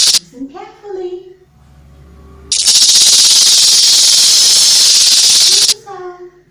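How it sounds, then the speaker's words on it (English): Snake-like hiss used in a children's guess-the-sound game: a loud, steady broadband hiss lasting about three seconds, with a voice speaking before and after it. "It's a snake."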